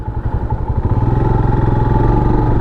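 A Royal Enfield Himalayan 411 motorcycle being ridden, its single-cylinder engine thumping in a loud, close, steady rhythm that quickens slightly into an even pulse.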